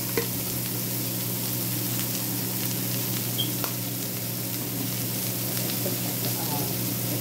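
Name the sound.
stir frying peppers with seasoning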